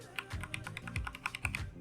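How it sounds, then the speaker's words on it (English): Rapid typing on a Razer BlackWidow Chroma TE mechanical keyboard fitted with Kailh Box Yellow switches, a steady run of close, crisp keystrokes with deeper bottom-out thocks, heard alone with no talking. "this is a Razer Black Widow Chroma TE. It has Kale box yellows in it"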